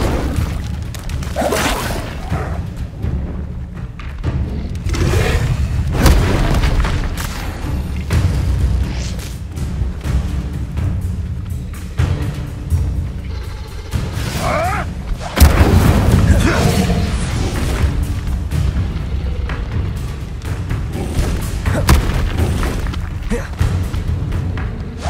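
Incendio fire spell cast in Hogwarts Legacy: repeated low booming whooshes and thuds in a dense, loud game soundscape, heavy bass bursts rising at intervals, with some voices mixed in.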